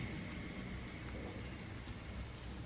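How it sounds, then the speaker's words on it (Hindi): Steady heavy rain pours down in a forest, a dense continuous hiss of drops with a low rumble beneath, no voices. "जंगल में तेज बारिश हो रही थी"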